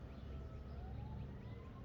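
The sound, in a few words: emergency vehicle sirens outside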